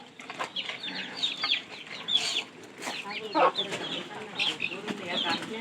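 Chickens clucking among pigeons in a household coop at feeding time, a busy overlapping chatter of short calls, fairly close, with occasional louder bursts and faint voices in the background.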